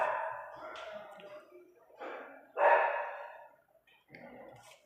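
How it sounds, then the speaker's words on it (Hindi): A dog barking in a quiet indoor setting, a few separate barks and yips spaced over several seconds at moderate distance, fairly faint, with no talk over them. "तो कभी ये कुत्ता जो है हल्ला मचाया जा रहा है"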